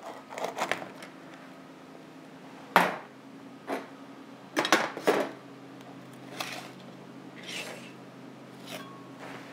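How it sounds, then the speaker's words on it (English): A knife scrapes around the edge of a banana cheesecake pan in several separate rasping strokes and metallic scrapes, close and intermittent with quiet gaps between, with no talking. "a knife around the edge just to make sure it's going to come out nicely"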